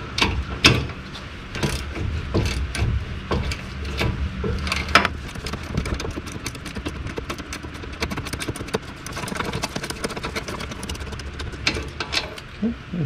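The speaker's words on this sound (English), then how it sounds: "now I'm just gonna use my wrench for the rest of it" A hand wrench works bolts loose on the brakes of a 1994–2001 two-wheel-drive Dodge Ram 1500, giving off scattered metallic clicks and clanks over low background rumble.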